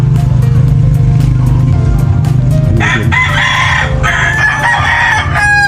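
Chickens cluck in a rural coop while a rooster crows loudly nearby, two drawn-out calls rising over continuous clucking and a low background rumble.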